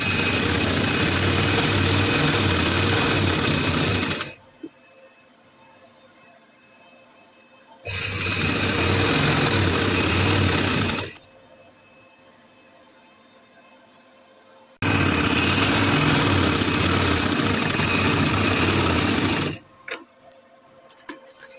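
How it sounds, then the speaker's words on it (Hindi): A sewing machine stitching lace onto a trouser whirs in three sustained, evenly loud bursts with near-silent gaps between them, heard close and alone. "इसके ऊपर सिलाई लगा देंगे।"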